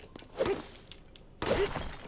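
Two sharp shattering crashes, about a second apart, as objects are smashed open in the video game The Legend of Zelda: Tears of the Kingdom, each a loud burst that quickly fades.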